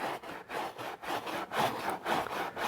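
A brush scrubbing Alcantara fabric worked with fabric cleaner makes close, rhythmic back-and-forth rubbing strokes, about a dozen even swishes in steady succession with nothing else heard.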